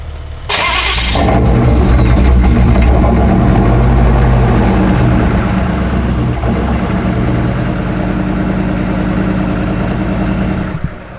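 An old diesel truck engine cranks and fires up, then settles into a loud, steady, rumbling idle with a rough knocking rhythm that carries on close by until a short clunk at the end.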